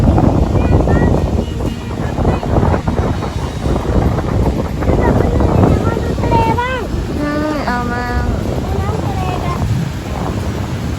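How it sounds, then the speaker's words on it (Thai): Strong wind buffets the microphone at a beach at Laem Charoen, Rayong, with a steady roar of gusts and surf; someone speaks briefly over the wind. "ลมแรง"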